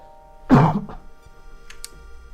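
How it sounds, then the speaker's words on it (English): A single sharp cough bursts out close to the microphone, followed by a short throaty rasp and a couple of faint clicks as the room settles back to quiet. "I got a cough"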